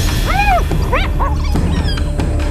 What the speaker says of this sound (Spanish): Y cuando los dos se cruzan, luchan como perros y gatos.